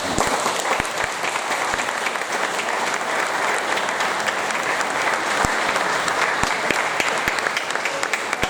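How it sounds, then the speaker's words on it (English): An audience at a thanksgiving and celebration service gives a big, sustained round of applause, dense clapping from a large crowd continuing steadily throughout. "give a big massive round of applause"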